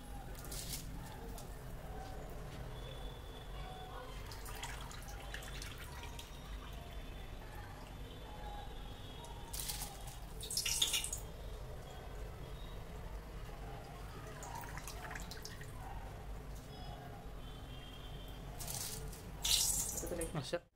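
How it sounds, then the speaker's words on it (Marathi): Soaked biryani rice tipped into a pot of fully boiling water for chicken dum biryani: a steady low bubbling hiss with two brief splashy bursts, close by. "आणि हा भिजवलेला तांदूळ आता त्यामध्ये टाकायचा."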